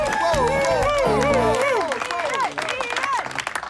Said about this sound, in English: Let's let me should have a massive round of applause for Ian